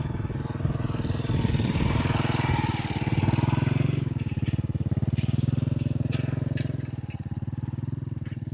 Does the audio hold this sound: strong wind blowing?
no